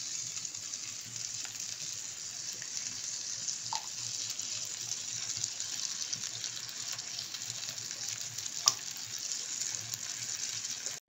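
Pineapple fish curry with coconut milk boils in a pan, giving a steady close bubbling hiss with faint occasional pops and no voices.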